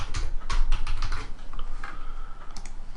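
Fingers type a short page title on a computer keyboard in quick, close, clicky keystrokes that come in a steady run and then slow down.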